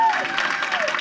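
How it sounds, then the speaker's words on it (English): Applause for students at a school board meeting, a dense patter of clapping over a short stretch with a voice speaking over it. "So please give them another round of applause."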